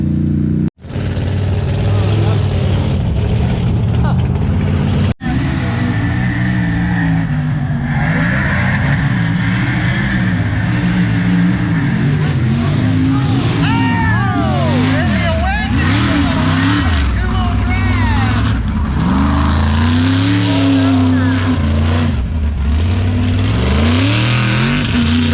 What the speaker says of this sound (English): All these trucks, it's super loud out here.